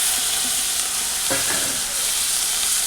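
Garlic and green chili fry in hot oil with a constant, loud hiss, and a brief stir or scrape comes partway through.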